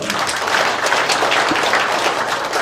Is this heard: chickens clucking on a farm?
no